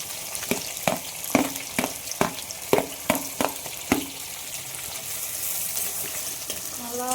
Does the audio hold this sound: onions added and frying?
yes